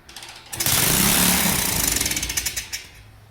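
A Lifan 125cc engine in an Amstar Rocky 49 bike catches on the first kick and runs loudly nearby as a fast, rattling putter that settles slightly toward the end.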